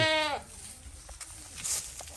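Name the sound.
goat bleating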